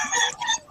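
A chicken clucks briefly and loudly nearby in a short burst of squawking calls, heard alone without talk.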